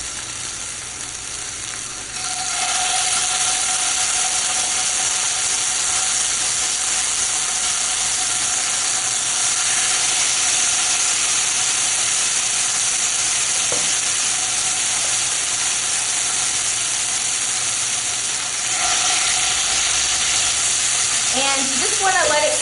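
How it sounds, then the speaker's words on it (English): Stuffed lamb sears in a very hot pan, giving a loud, steady, close sizzle that runs unbroken for over twenty seconds with slight swells, then ends in a few faint clinks. "You want to make sure that the heat is high because we're only going to sear it for a couple of minutes on each side."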